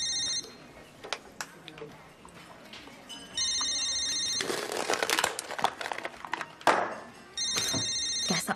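A helpline telephone rings in repeated electronic bursts with short gaps, fairly close, while people talk around it and a few knocks and rustles break in.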